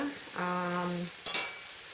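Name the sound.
stir fry sizzling in butter in a pan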